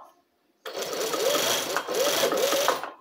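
A twin-needle sewing machine stitching taquara bias binding onto a bra cup, running in a steady close whir for over two seconds with a brief pause partway through.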